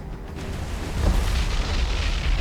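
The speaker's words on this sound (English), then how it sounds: "Magazine explosion." A ship's magazine detonating after a bomb hit in the naval combat game War on the Sea, a deep rumbling boom that swells about a second in and keeps rolling as a heavy roar to the end, loud and with no talk.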